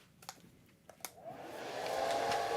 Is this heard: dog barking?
no